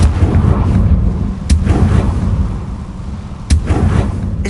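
A Confringo explosion spell goes off in Hogwarts Legacy, two sharp booming blasts about two seconds apart over a steady rumbling game soundscape, with no talk.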